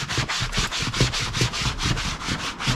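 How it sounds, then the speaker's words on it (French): Rhythmic back-and-forth rubbing on Fiat Coupé bodywork, about a dozen quick even strokes in under three seconds, loud and close with no speech. "Allez, on frotte."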